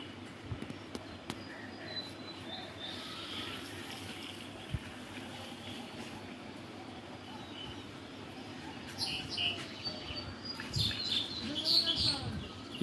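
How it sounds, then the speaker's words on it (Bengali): Small birds chirp and tweet in bursts over a steady outdoor background after rain, near a fruiting jackfruit tree, the calls growing busier and louder toward the end, with no talk. "কি সুন্দর পাখির কিচিরমিচির"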